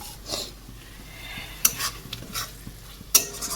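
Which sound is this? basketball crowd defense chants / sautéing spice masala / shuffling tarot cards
sautéing spice masala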